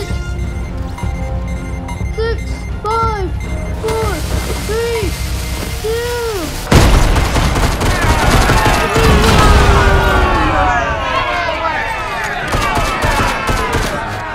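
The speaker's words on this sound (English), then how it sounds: "The bomb got detonated." A bomb detonates in a Fortnite Search and Destroy match, a sudden loud blast breaking in midway over game music and effects, followed by sustained rumbling noise.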